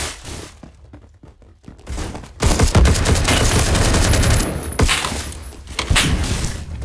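Video game gunfire, including shots fired through a wall: a quiet opening gives way to loud, dense rapid-fire bursts that continue almost without pause to the end.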